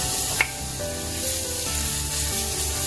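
Sliced onions sauté in a pan with a loud, steady close-up sizzle, one sharp pop near the start and faint stirring underneath.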